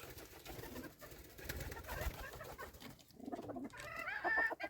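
Soft pigeon coos and rustling murmur close by, ending with a louder, wavering call.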